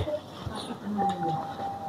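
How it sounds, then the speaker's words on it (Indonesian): A doorbell gives a steady, moderately loud electronic tone lasting about a second during an Islamic lecture on funeral rites, with a low background hum and a speaking voice nearby. "Ini suara bel ya, nggak apa-apa nih"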